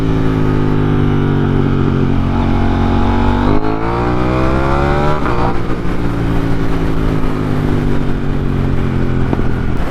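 A KTM Duke 890R motorcycle engine roars loud and close while riding, its revs climbing and dropping through gear changes with a strong continuous drone and no talk.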